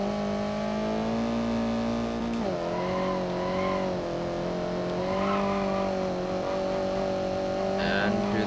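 A video game car held in second gear revs hard with wheels spinning, giving a loud sustained engine drone that dips and climbs as it shifts pitch, with faint tire squeal and a voice talking over it.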